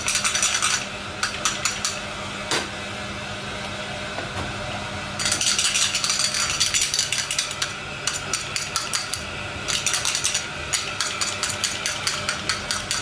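Metal cannelé moulds clinking and scraping as they are set onto a baking tray in a pastry class, bright rattling bursts and single sharp taps coming in clusters with pauses between.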